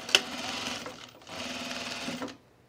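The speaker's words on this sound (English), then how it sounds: "You just set your cover stitch to a double chain stitch." A cover stitch sewing machine set to a double chain stitch runs in two short bursts with a brief pause between, a close, fast whirring hum with a sharp click at the start.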